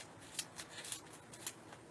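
Scissors snip through a bundle of yarn for a small Santa hat craft, making a run of about six crisp, quiet cutting clicks at an uneven pace, close by with no talking.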